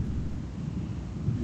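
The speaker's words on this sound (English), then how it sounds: "It sounds like a storm is coming." Thunder from an approaching storm in the video game Oxenfree sounds as a low, continuous rumble, fairly faint and steady, with no voices over it.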